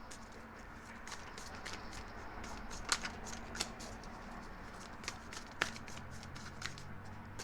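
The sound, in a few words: tarot cards being shuffled and drawn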